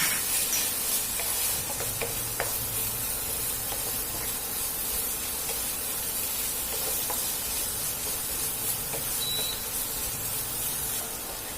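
Galangal chili paste sizzles steadily in a pan as it is stir-fried with fish sauce and shrimp paste, a close, continuous hiss with soft scraping and clicks of a utensil, no talking.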